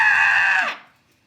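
A person imitates a goat scream with one loud, strained, bleating yell that holds steady for a moment and then drops and cuts off sharply into silence.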